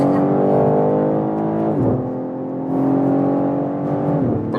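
A BMW M3 Touring accelerating hard on the Autobahn, its engine note rising steadily through the gears with brief dips at each shift, loud and close from inside the cabin.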